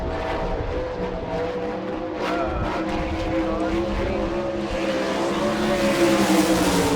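Sprint car on a qualifying lap at an All Star Circuit of Champions race in Rossburg, Ohio, its engine roaring and rising in pitch as it passes, loud and continuous.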